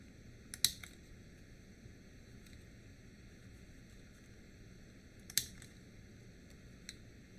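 Scissors snip through a paper card, giving a few faint, sharp cuts: two distinct snips several seconds apart and a softer one near the end, in a quiet room.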